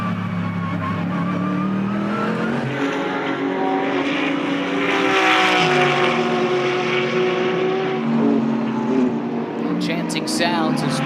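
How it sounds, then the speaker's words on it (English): GT sports cars race around Sonoma Raceway, engines droning loud and steady with rising and falling pitch as they pass, under continuous commentary. "Sounds of sports car racing"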